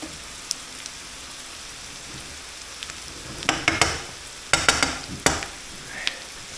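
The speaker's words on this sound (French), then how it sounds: "même s'ils sont au-dessus et qu'ils sont trempés dans l'huile, ils vont frire un petit peu" Onions fry softly in oil over medium heat. The quiet sizzle is broken by several close scraping and stirring clatters in the second half.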